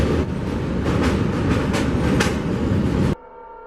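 A train rumbles loudly past at close range with a dense, steady roar and faint wheel clatter, then cuts off abruptly into near silence, with no talking.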